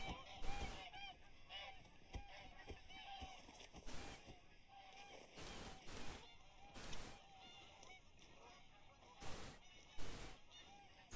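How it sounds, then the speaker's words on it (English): Geese honk repeatedly in The Hunter: Call of the Wild's Hirschfelden hunting reserve, their loud, scattered calls breaking out in irregular bursts over a steady outdoor game ambience. "All the noises of geese in this game."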